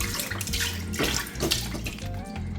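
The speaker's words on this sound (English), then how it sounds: "I have some chicken broth here." Chicken broth poured steadily into an Instant Pot, a continuous gurgling splash close by with no talking.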